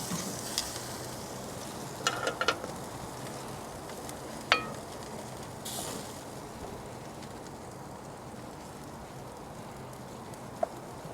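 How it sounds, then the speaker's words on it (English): Pork chops rendering fat on a Kamado Joe Classic 3 grill sizzle steadily up close, with a few sharp clicks and pops breaking through at intervals. "the fat's starting to render down nicely here."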